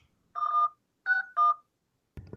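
A telephone keypad sounds three short dialing tones, one then a quick pair, clear and close in an otherwise quiet room, followed by a brief low thump.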